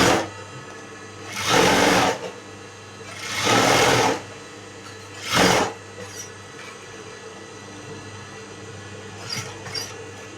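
A sewing machine stitches a blouse in three short bursts of whirring, close and clear, separated by quiet gaps with faint clicks afterward.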